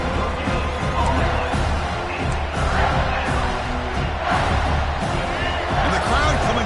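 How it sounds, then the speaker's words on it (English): Crowd noise swells at a football stadium during a game, a broad roar of cheering under a commentator's steady play-by-play. "And the crowd coming to life here"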